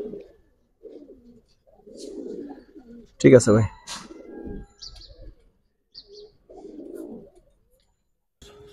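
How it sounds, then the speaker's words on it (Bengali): Giribaz pigeons coo and chirp close by in a pigeon farm in Old Dhaka, heard in short bursts. Someone talks between them. "সবুজ কবুতর দেখেন, সিনিয়র কবুতর ভাই"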